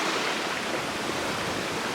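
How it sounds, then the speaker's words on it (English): Flooding stream rushing over a road during a cyclone, a loud, dense, unbroken roar of churning water with wind noise mixed in, no voices. "the stream is flooding over the top of the road"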